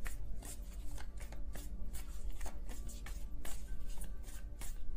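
Tarot cards being shuffled close by, a steady stream of quick riffling flutters and soft slaps with no talking.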